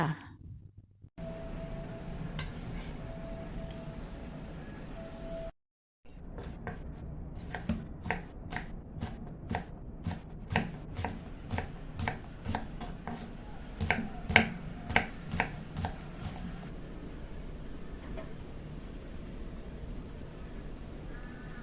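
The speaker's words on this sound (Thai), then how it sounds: "เรามาเริ่มหั่นใบมะกรูดกับถั่วฝักยาวก่อนค่ะ ใบมะกรูดเราจะหั่นให้เป็นฝอยเลยนะคะ" Kaffir lime leaves and long beans are sliced finely with a knife for Thai fried fish cakes, giving a steady run of about twenty crisp, evenly spaced chopping taps that grow louder, then quieter, close up with faint kitchen background.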